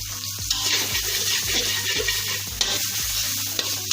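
Oil sizzling and crackling steadily in a pan while an omelette is cooked, with repeated soft stirring or scraping strokes and a low background hum, no talking.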